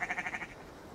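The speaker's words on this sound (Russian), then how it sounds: "Что ела эта овца?" A sheep bleats in a short, rhythmic, wavering series of pulses, fairly close and clear, then the sound drops away to quiet background.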